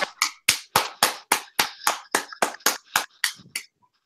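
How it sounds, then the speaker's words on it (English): About fourteen sharp, evenly spaced claps ring out in a steady rhythm for a sixth-place NASCAR finisher. They grow slightly weaker toward the end, then stop. "Let's give a round of applause for the guy in sixth, David Reagan."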